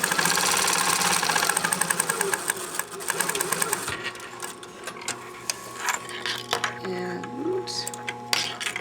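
A domestic sewing machine runs in steady bursts as it stitches a seam on a sleeve placket for a costume, its rapid mechanical whir continuing up close, with a few brief pauses and small clicks between runs.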